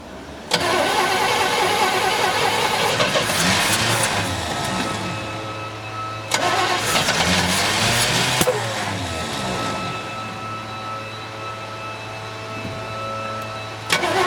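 A 1972 Chevrolet Chevelle Malibu engine cranks in two long starter bursts with a rhythmic churning, then catches and settles into a rough, steady idle, loud and close.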